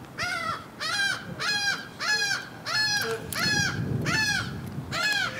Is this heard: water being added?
no